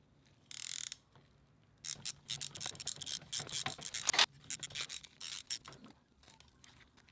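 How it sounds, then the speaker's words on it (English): A Motion Pro chain breaker pushes a pin through a KTM 701 motorcycle chain, giving quiet mechanical ratcheting and grinding in a steady series of short clicking strokes after an initial creak, close up and alone. "by tightening up this, our pin will push the pin all the way through the chain"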